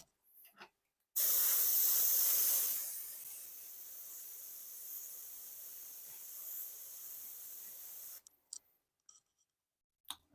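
An airbrush sprays paint onto a Boba Fett helmet, a close, steady hiss that starts with a loud burst and then settles to a softer even spray before stopping, followed by a few small clicks.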